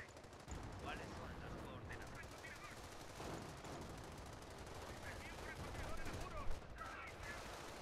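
Machine-gun bursts and scattered gunshots rattle continuously through a Company of Heroes World War II strategy battle, dense and overlapping with a few sharper louder cracks, at low overall level.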